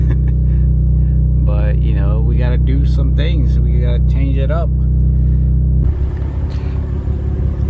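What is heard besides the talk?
tuned BMW B58 engine idling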